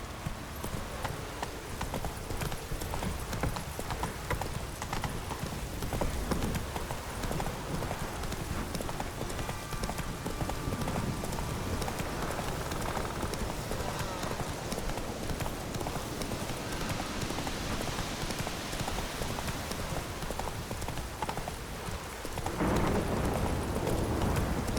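Roach, the horse in The Witcher 3, gallops without a break, a fast, rhythmic clip-clop of hooves with a steady drumming beat over a dense game ambience, loud and close.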